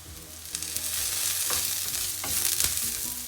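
Curry leaves crackle and sizzle in hot oil over cooked onions for a coconut fish masala, a close frying hiss with a few sharp stirring clicks.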